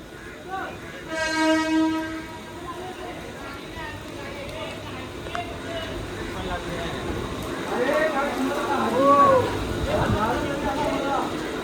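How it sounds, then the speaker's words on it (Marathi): A train rumbles past on the Mumbai line between Dockyard Road and CSMT during flooding, with a loud horn blast early on, then steady rail noise continues under people talking nearby. "हा ट्रेन लागली आहे"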